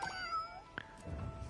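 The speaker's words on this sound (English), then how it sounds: "Was that my cat that made that sound?" A house cat meows a few times nearby, with short, faint, rising cries over steady background hum.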